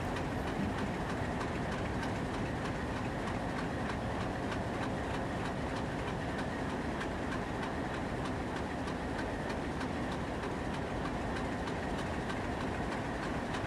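A freight train rolls steadily past a railroad junction, its wheels clicking in a regular rhythm over rail joints under a continuous rumble. It stays close and loud throughout, with no talking.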